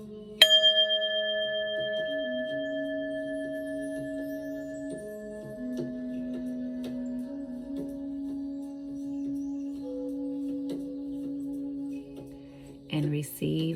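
A single ringing bell struck once near the start, leaving a long, steady tonal decay that fades slowly over many seconds, with a faint voice murmuring underneath and a brief clatter at the end.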